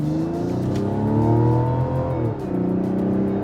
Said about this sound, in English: That's a sweet sounding 6-cylinder for sure